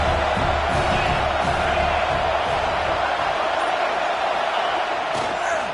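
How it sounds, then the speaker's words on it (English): A dense football stadium crowd roars continuously as a defense holds against an offense, a loud, even wall of cheering with occasional louder swells and faint announcer talk beneath. "This crowd trying to make life miserable for this offense."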